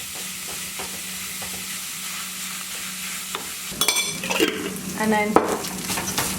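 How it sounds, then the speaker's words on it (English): A spoon stirs tomato paste into Yemeni sambosa filling in a pan, a soft sizzle underneath and a few brief scraping clinks near the end. A voice speaks briefly. "you're just gonna mix that up together."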